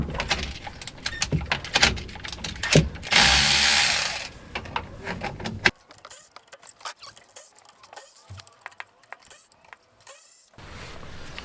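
Bolts being loosened on a Ford with a 13 mm socket wrench, close up: clattering metallic clicks and rattles, a dense burst of harsh mechanical noise near the start, then sparser ticks and clanks.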